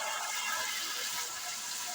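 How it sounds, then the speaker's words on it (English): Tap water pours into a canner being filled for making grape jelly, a dense, even rushing hiss that stays steady throughout. "I'm going to fill up the canner with water."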